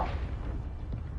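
A Confringo fire spell blasts in Hogwarts Legacy, a dense, rumbling burst that swells at the start and rolls on as a sustained boomy roar through the short stretch.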